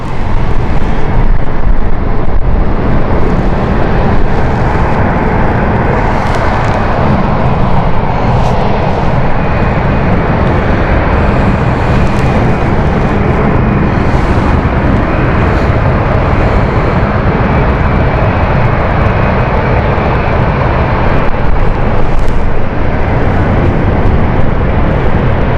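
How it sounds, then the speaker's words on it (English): A KLM airliner inbound at London City Airport produces a loud, sustained jet roar that fills the whole stretch, a constant broadband rush with a faint high whine and no talking. "Here is KLM inbound."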